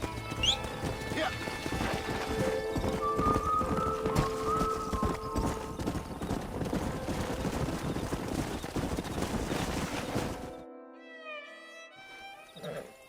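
Steady clip-clop of horse hooves amid busy outdoor sounds in the video game Red Dead Redemption, with a whinny and voices mixed in, giving way to softer chirping tones near the end.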